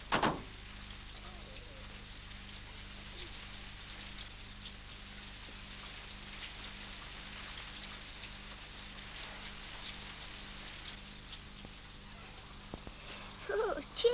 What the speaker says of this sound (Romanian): Ui, ce ploaie!